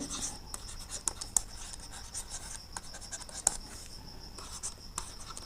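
Math is written on a board in steady strokes, producing soft rubbing and scratching with small taps at irregular intervals, close and fairly quiet.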